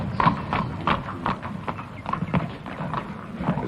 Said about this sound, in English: The first string of horses moves off.